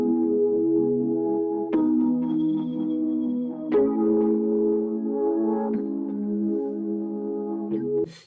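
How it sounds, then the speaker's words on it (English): A short keyboard track of sustained synth chords that change every two seconds or so, each new chord struck with a sharp attack, playing steadily and clearly with no talking over it. "I've got myself a little keyboard track that sounds like this."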